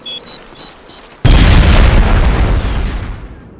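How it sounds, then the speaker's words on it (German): An explosive charge blowing up an enemy flak gun in the video game SOCOM Special Forces: faint beeps, then one sudden loud blast that rumbles and decays over a couple of seconds. "Mal jagt der PC-4-Sprengladung eine feindliche Flak in die Luft."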